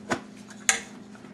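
The bottom of a springform cake pan is locked into place with two short metallic clicks a little over half a second apart. They are fairly close and faint, with no talking.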